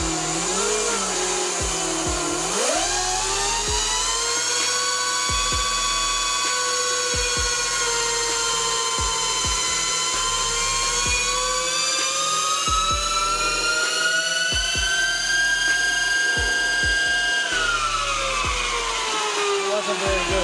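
A 72V Burromax XRB electric bike spinning up on a dyno, its motor whine sliding up in pitch then holding a long steady high tone with repeated clicking ticks underneath before easing down.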